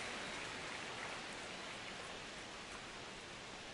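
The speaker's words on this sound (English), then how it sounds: "the field's not going to be able to hold up if the rain gets any worse than this" Rain falls on a baseball field in the video game MLB26 as a soft, steady, even patter with no voices over it.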